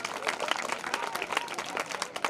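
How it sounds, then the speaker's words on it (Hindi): Audience applause at a Hindi comedy poetry gathering, a dense, steady wash of many hands clapping for about two seconds with the crowd close and fairly loud. "मैं चाहता हूँ एक बार जोरदार तालियों से मेरा समर्थन करें।"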